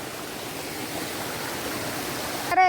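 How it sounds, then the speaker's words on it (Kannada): Flowing stream water rushes in a steady, broadband wash during a trek crossing a mountain stream on a class trip, continuous and fairly close with no talk, ending in a brief sharp noise. "ಹರಿಯುವ ಝರಿಯಲ್ಲಿ"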